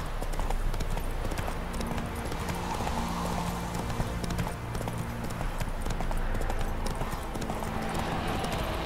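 A horse's hooves clip-clop steadily in the video game The Witcher 3: Wild Hunt, a continuous rhythmic gallop heard fairly close over a constant bed of ambient game noise.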